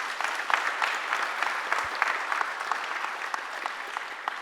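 A sustained round of audience applause at a Hawaii Korean community association candidates' debate, dense and even throughout, with no talking over it.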